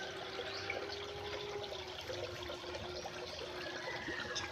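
Water flows steadily into a backyard concrete pond, a soft continuous trickle and splash at low level throughout, with no talking.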